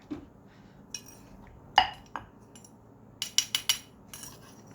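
A metal spoon clinks against a bowl or dish while boiled fish sauce is spooned into a chili dip for a spicy olive nam prik. The sharp clinks come close and fairly loud, scattered at first and then in a quick cluster of four or five.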